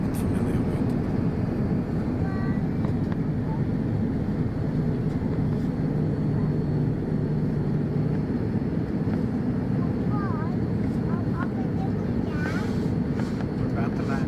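Steady loud low roar inside the cabin of a Qantas Airbus A330 on approach to Sydney before landing, a constant engine and airflow drone with faint chimes and murmuring voices mixed under it.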